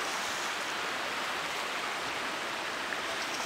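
A rocky creek beside a creek-front campsite on Gypsy Trail at Allegany State Park rushes with a steady, dense broadband hiss of flowing water, close and continuous, with no voices.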